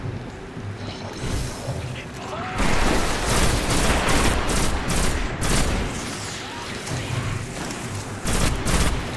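Sniper gunfire and a fusillade of shots in the video game Destiny, loud and dense, with a sharp surge of rapid firing and blasts after a quieter opening stretch.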